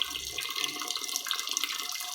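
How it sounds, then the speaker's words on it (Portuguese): Running water fills a bowl to cover sushi rice for washing, a steady close hiss with small splashes, and no voices. "A gente só vai deixar a água cobrir ele certinho"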